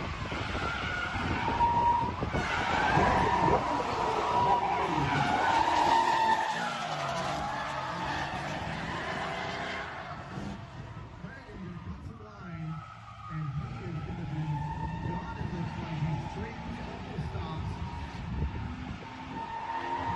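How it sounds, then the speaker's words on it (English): Car drifting at a local race track, tires skidding and squealing loudly through continuous slides with engine roar, a steady dense wash of tire and motor noise throughout. "Here's a clip of me drifting at my local track in real life"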